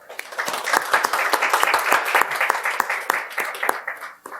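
Applause from a forum audience after an education superintendent's speech on climate-crisis education, a dense run of individual claps rising and then tapering off over several seconds.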